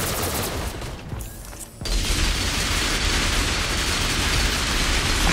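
Relentless rapid gunfire in Risk of Rain 2, a dense continuous barrage that drops briefly then surges back louder and unbroken to the end.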